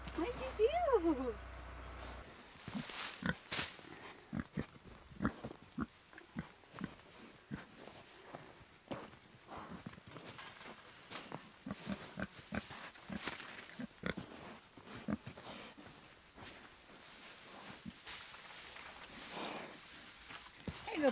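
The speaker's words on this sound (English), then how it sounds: "There you go, piggies." Pigs on an off-grid homestead grunt and oink close by in frequent short bursts, mixed with shuffling footsteps and rustling. A person talks intermittently over the animal noises.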